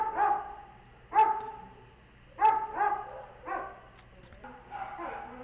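A hungry dog in a horror video game barks in a series of short, loud woofs and yips spaced about a second apart, with a low background hum beneath.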